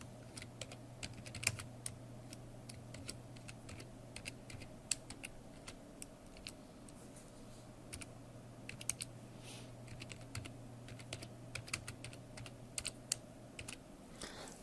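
Typing on a computer keyboard in an Ubuntu Linux session, a long run of close, quick keystroke clicks in irregular bursts over a low steady hum, with no talking.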